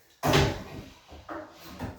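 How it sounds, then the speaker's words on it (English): A metal drawer slide piece is slid down into a woodworking jig bracket, making a sharp scraping slide followed by a softer second rub, close and alone. "Then I'm going to slide this down into the bracket."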